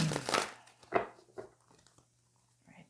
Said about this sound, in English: I'll give that another shuffle